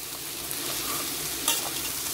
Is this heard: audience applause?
no